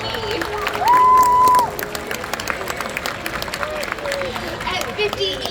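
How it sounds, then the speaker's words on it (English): Crowd applause and cheering in the stands at a SeaWorld orca show, moderate and steady beneath a whistle and announcer-style talk over a public address. "Everyone please give a big round of applause for Corky."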